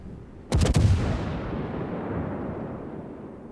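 Naval artillery shells fire in World of Warships: a sudden loud multi-shot salvo of sharp cracks bursts out together, then a long deep rumble trails off over a few seconds, with no speech.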